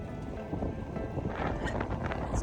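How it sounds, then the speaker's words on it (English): Wind blows outdoors, buffeting the microphone in a steady, loud, broadband rush with gusty swells, and no one talks. "It's kind of windy."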